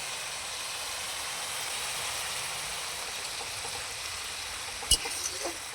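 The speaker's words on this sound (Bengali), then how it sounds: "গ্রেট করা একটা বড় সাইজের টমেটো, দিয়ে দিচ্ছি। একটু ভেজে নেব।" Grated tomato with ginger-garlic paste frying in a pan, a soft steady sizzle throughout with a couple of brief utensil clinks near the end.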